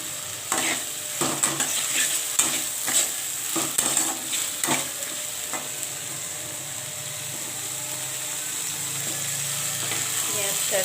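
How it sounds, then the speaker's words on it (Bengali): Onion stalks stir-fried in a pan with onion and dried chili paste, with repeated scraping and clattering strokes of a spatula in the first half over a steady low sizzle that carries on alone. "পেঁয়াজ আর শুকনো লঙ্কা বাটা এটাকে একটু কষিয়ে নিয়ে কষাতে কষাতেই আমি তুলে দেবো"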